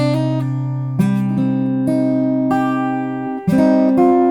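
Guitar picking a riff, thumb on a bass string and ring finger on the first string, with a steady low note and chords struck every half second or so, ringing cleanly with no voices.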